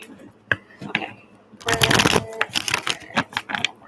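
Tarot cards being shuffled in a short riffling burst partway through, with softer card handling and small taps before and after, set against a quiet room.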